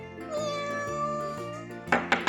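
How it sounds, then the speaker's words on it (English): A farm animal toy plays a recorded cat meowing: a sustained, tonal, melodic meow with layered harmonics, followed by a few short bright bursts near the end, clear and close with no talking. "This is a cat. The cat goes."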